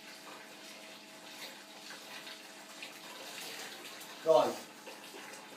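Water runs steadily from a tap at low volume, a soft continuous wash with a brief louder splash near the end, while a person speaks over it.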